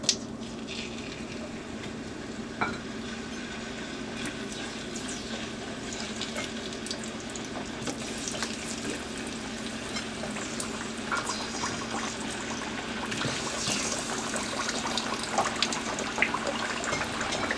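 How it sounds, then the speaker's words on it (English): Sweet potato fries sizzle in hot oil on a stove set to medium high, a steady crackling, bubbling hiss heard close up with occasional louder pops and stirring near the end. "The oil is ready and I'm going to put my fries in there."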